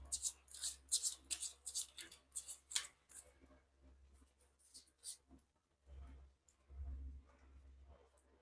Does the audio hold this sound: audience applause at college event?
no